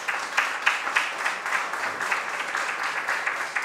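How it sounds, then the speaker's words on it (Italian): Audience applause at a hospital ceremony for the relocation of a bronze statue, steady dense clapping from a crowd sustained throughout at moderate distance, with no speech. "chiedo di rivolgere anche un altro applauso"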